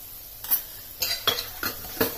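Stuffed green tomato masala with cumin-coriander powder fries in a pan, heard as a quiet sizzle broken by several sharp spoon scrapes and stirring clinks spaced about half a second apart.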